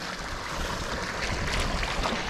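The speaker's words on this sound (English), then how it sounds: "And look at the river here." A cold, clear river runs near waterfalls in Samaipata, Bolivia, giving off a steady, close rushing wash of water with no voices over it.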